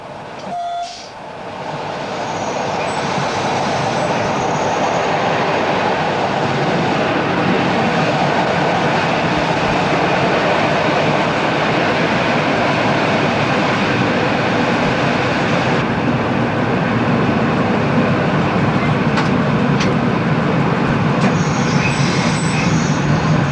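Regional train on the Sacile–Gemona line rolling into Sacile San Liberale station in the 1990s, a loud steady rumble of wheels and carriage noise building then holding as it slows, with brief horn or whistle tones and faint squeal.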